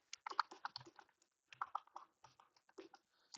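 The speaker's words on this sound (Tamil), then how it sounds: "நான் வந்து இப்போ டைப் பண்ணுறேன்." Fingers type on a computer keyboard in the nano editor, a quick irregular run of light clicking keystrokes with a brief pause midway, close and quiet, with no talking.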